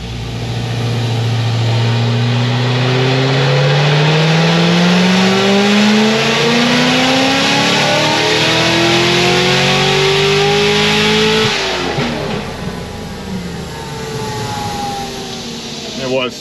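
A ZR1 with a stock bottom end revs hard under boost on a pull, its rising harmonics climbing steadily for about eleven seconds before the throttle lifts and the engine settles into a rougher, lower idle-like drone, loud and close throughout.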